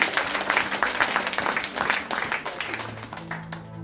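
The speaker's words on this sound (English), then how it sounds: "Clap your hands for the Holy Spirit." Church congregation clapping their hands together during a Thanksgiving service, a dense steady patter of many palms filling the room, with voices and low organ-like tones underneath.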